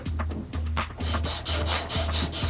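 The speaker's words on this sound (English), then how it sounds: "A little bit of sandpaper." Sandpaper rubbed by hand over plastic drain pipe, close and loud, in quick rhythmic strokes of about two per second with scratchy rasps, and no talk.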